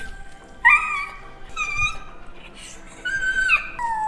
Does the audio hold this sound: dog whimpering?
yes